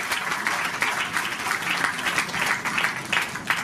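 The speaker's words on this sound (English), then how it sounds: "Can we have a big round of applause for this wonderful year?" Audience applause at an award ceremony and book launch event, a steady wash of many hands clapping at moderate volume throughout, with no voices standing out.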